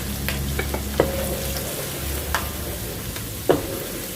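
Spice powders fry briefly in hot oil with curry leaves for an Acehnese tuna curry, a steady sizzle under a few sharp clinks and scrapes of a spatula against the pan.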